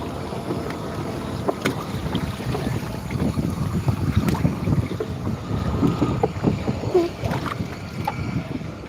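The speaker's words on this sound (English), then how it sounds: "the wind's coming this way" Wind buffets the microphone at a boat ramp during a night fishing trip, a steady rumbling gust that rises and falls, with faint water movement and no talking.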